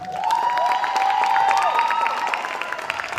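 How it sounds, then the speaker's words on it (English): A crowd claps and cheers for band directors at an all-star band event, a short burst of loud applause with a sustained tone running underneath. "Y'all clap it up for my brothers."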